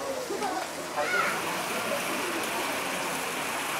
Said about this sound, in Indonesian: Oke, sudah mulai turun hujan ya.